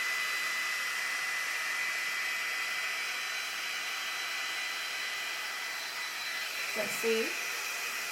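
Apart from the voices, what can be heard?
Dyson Airstrait hair tool drying wet hair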